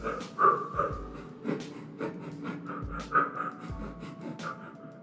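A person does a breathing exercise, alternating between drawing air in and pushing it out through the nose and the mouth, with close, audible breaths and short snorting bursts repeating steadily.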